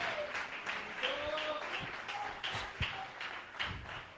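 Church congregation clapping in irregular taps and thumps during a Spanish-language sermon, with a voice speaking over the scattered applause.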